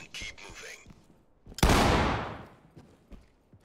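A single loud, close shotgun blast in the tactical shooter Ready or Not, with a sharp attack and a reverberant tail lasting almost a second, set among faint clicks and quiet background noise.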